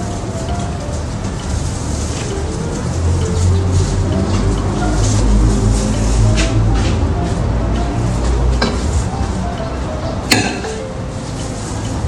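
Continuous scraping and clinking of a utensil against a pan as fried rice is stirred and tossed, with steady sizzling noise throughout.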